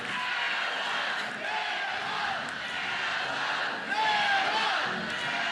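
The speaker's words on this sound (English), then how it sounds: "Crowd on its feet here at the Rhodes House, understanding the opportunity in front of their team." A softball stadium crowd on its feet at the Rhodes House cheering for Oklahoma against Alabama, a steady loud roar of voices and shouts that swells near the end.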